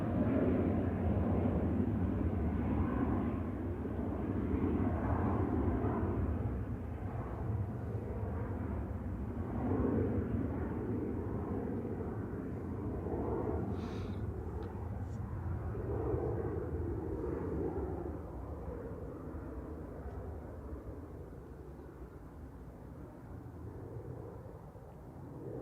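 An airliner touching down at Manchester Airport, its engine roar loud at first and slowly easing off over nearly half a minute, no speech.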